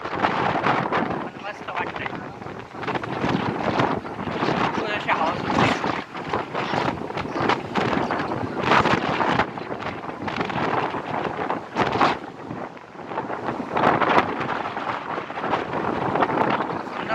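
Strong, cool wind blows steadily across the microphone at Chandwad hill station near a Mahadev temple during the monsoon, a loud continuous buffeting roar with gusty surges throughout.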